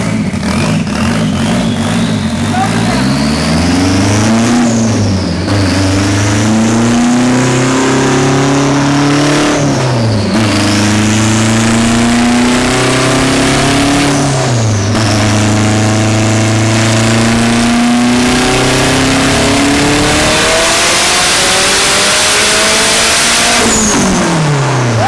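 An SRT car on a dyno revs hard and loud for the whole stretch, the engine note climbing repeatedly and dropping back between pulls, with no speech over it.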